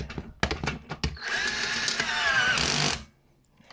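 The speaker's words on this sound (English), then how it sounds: "So I'm gonna grab the automatic screwdriver." Automatic screwdriver driving screws into an elevated desk during assembly, a loud continuous buzzing motor whir lasting about two seconds after a few sharp knocks and clicks.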